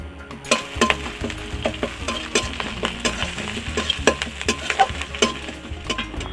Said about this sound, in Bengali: এখন আমি রসুন বাটা দিয়ে দিচ্ছি আর তার সাথে আদা বাটা দিয়ে দিচ্ছি